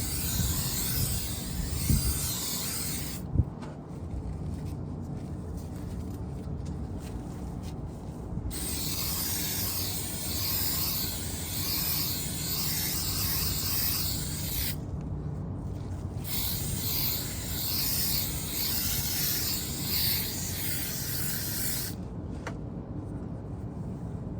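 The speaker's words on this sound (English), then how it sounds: "And then you also want to go ahead and spray the headliner." A continuous aerosol spray of adhesive onto a 2005 Pontiac GTO headliner hisses loudly up close for long stretches, broken by a couple of brief pauses, with faint rubbing in the background.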